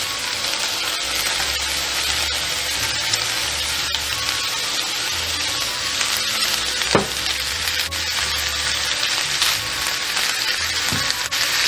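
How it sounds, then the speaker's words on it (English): Onions for a Swabian onion pie tipped into a hot pan, giving a loud, steady, dense sizzle throughout, with a couple of brief knocks of the utensil against the pan. "Now I will add my onions."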